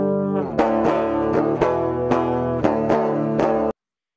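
A clean, unamplified electric guitar plays a short run of struck chords with a sour, slightly detuned ring before cutting off.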